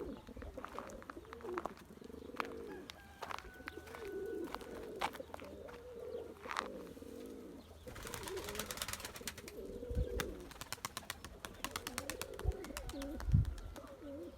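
Young blue pigeons coo in soft, repeated rolling phrases close by, with bursts of wing clatter and fluttering partway through as birds take off and land.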